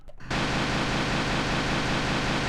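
Constant, even rushing noise like static or hiss, with some low end cut by EQ, starts after a brief pause and continues steadily without change.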